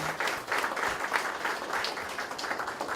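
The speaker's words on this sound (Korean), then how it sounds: "계속해서 박수로 함께해 주시기 바랍니다." Audience applause at an anti-corruption association launch ceremony, a dense crowd of many hands clapping steadily and fairly loud for the whole stretch, with no one speaking over it.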